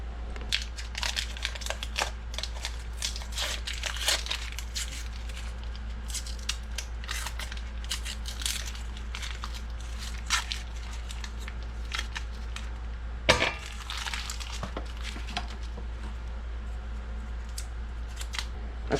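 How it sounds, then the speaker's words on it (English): Sticks of butter are unwrapped by hand for canning herbed ghee, giving a steady run of crisp paper crinkling and rustling over a low background hum. A louder crunch lands partway through. "We're going to go ahead and unwrap all of this, and we're going to slowly melt this butter."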